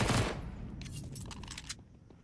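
Pistol gunfire in a Counter-Strike 2 match: a quick burst of shots at the start, then a few scattered sharp cracks that fade, all fairly faint and brief.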